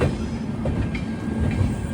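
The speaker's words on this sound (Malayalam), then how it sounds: "ട്രെയിൻ ഇപ്പോൾ ഇതാ ഗാസിയാബാദ് റെയിൽവേ സ്റ്റേഷനിലേക്ക് എത്തുകയാണ്" A train pulls into Ghaziabad Junction railway station in Uttar Pradesh with a loud, steady rumble and a low clatter of wheels on the rails, heard close from on board.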